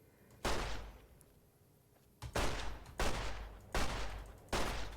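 Gunfire from the Fallout: New Vegas video game: four loud, sustained bursts of shots, each lasting about half a second, separated by short gaps.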